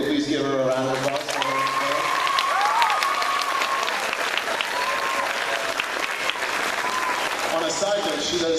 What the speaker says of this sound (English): if you'll please give her a round of applause